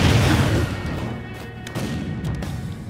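Bombs go off in Super Smash Bros. Ultimate as a rumbling blast that fades into a scattered crackle of smaller hits and thuds.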